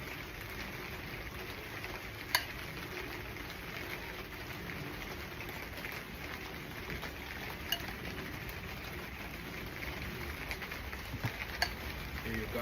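Garlic shrimp fry outdoors in a steady, close crackling sizzle that runs continuously, with a few sharp clicks of utensils against the pan now and then.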